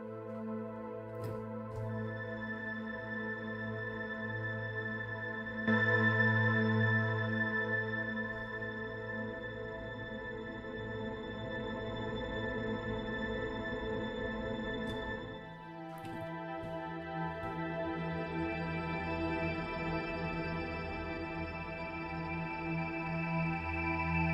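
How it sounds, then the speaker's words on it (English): A soft, lush synthesizer pad sustains warm layered chords, swelling slightly and shifting tone midway, playing alone without any voices. "within the scenic pads, I found the Velvet Pad, and it sounds like this"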